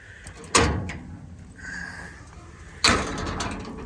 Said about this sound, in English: if I shut this door and stand back from the machine